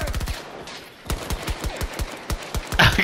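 Rapid gunfire in the video game Battlefield 2042: close bursts of sharp automatic shots, a short lull, then more spaced single and double cracks ending in a louder burst.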